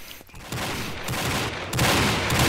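Rapid, continuous gunfire from the online shooter Combat Arms, with a Desert Eagle pistol in play, rattles in dense bursts that grow louder partway through, with no talking over it.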